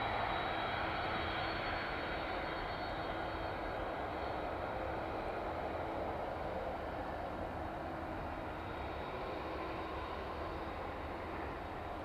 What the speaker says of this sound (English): the UPS 767 in from Philadelphia this evening